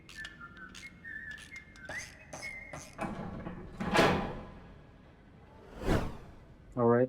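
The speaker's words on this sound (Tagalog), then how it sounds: "Sumisipol siya." A character in the video game The Baby in Yellow whistles a short melodic tune, followed by two loud whooshing swishes and a brief burst of sound at the end.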